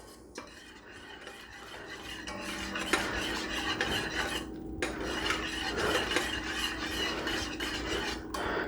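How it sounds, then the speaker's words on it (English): A spoon scrapes and stirs creamed chipped beef in a pan, giving continuous close rasping and metallic scraping strokes with short pauses between passes, with no talking. "And give it a good stir."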